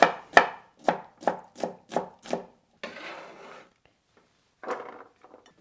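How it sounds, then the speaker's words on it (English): A knife chopping a vegetable into cubes for salsa on a cutting board: seven quick, crisp knocks in an even rhythm, then a short scraping slide, a pause and one more scrape, close and clear. "So cut it lengthwise. And then cut across."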